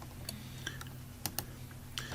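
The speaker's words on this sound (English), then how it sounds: "So we're going to click on the change button." Computer mouse clicks, sparse and faint, a handful of sharp clicks spread irregularly over a low steady room hum.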